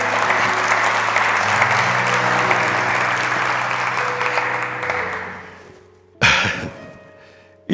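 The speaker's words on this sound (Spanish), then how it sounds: "Aplaudo al Señor." A church congregation applauds the Lord in a steady, dense wash of clapping over a low hum, tapering after about five seconds before a sudden loud thump or bump cuts in near the end.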